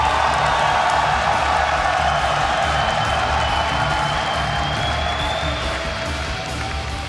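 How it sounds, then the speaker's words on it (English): A large BlizzCon esports arena audience cheers for StarCraft player Jaedong at the WCS Global Finals semi-finals, a dense, steady roar of shouting and applause that stays loud throughout with little letup. "when the crowd cheers for Jaedong, it still like that, erupts into our headsets"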